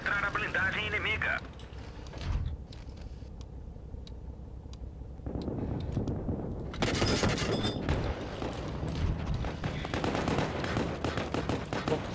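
Tank cannon fire and battle effects from the World of Tanks Blitz game with a light Russian BT-2 tank, bursts of shots and booms under steady talk from a player.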